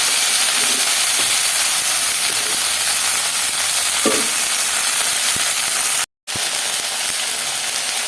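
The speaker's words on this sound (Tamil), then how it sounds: "இப்போ அதை போட்டு இதில் வறுத்துக்கலாம்." Fresh coriander and mint leaves frying in hot oil in a pan, giving a steady broadband sizzle and hiss throughout, close and fairly loud, with a few soft clinks and one brief dropout near the end.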